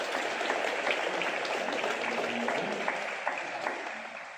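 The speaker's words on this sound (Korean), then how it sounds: "워낙 큰 수술했으면 박수 한번 쳐주세요" A church congregation claps to welcome back a member who has just returned after major surgery, a dense, steady round of applause from many hands filling the room throughout.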